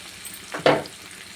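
A brief sizzling burst as potato and tomato curry is stirred in a frying pan, rising sharply and fading within half a second.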